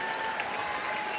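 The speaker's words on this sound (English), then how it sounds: "Crowd knows how valuable he is, getting a bit of a round of applause." Applause from the crowd at a college men's basketball game, a brief, steady patter of clapping heard at a moderate distance, with a faint steady tone in the arena background.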